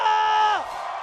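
Crowd at an esports game match between RRQ and Liquid, loud sustained cheering with a single voice whooping a long held tone that drops off, followed by a fainter crowd roar.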